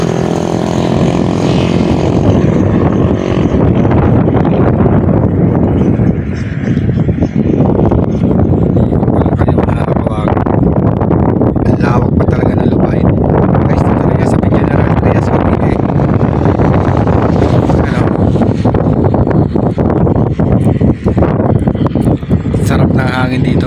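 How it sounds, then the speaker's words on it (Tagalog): Steady, loud desert wind in the Philippines buffets the microphone throughout, a continuous roaring rush with gusty flutter and no pauses. "Sarap ng hangin dito"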